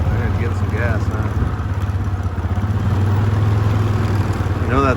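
A Yamaha Grizzly ATV engine revving under throttle while climbing a steep trail, a steady mid-pitched pulsing drone up close, with someone talking over it.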